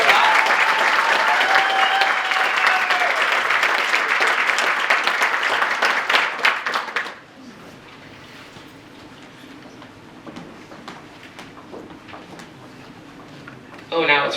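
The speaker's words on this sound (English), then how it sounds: "So let's give them a round of applause." Crowd applauds carnival royalty candidates at a winter coronation, loud sustained clapping for about seven seconds that cuts off abruptly, leaving quiet room tone and a faint murmur before a brief burst at the end.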